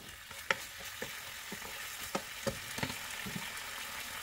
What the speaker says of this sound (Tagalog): ipagpatuloy lang po ang paggisa ng mga about 8 minutes hanggat sa maging mag-light brown po